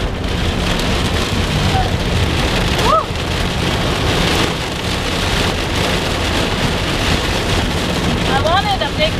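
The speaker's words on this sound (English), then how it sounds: "I wanted a big thunderstorm," Heavy rain drums steadily on a car during a thunderstorm while driving on a road, a loud continuous wash with brief voice-like tones faintly underneath.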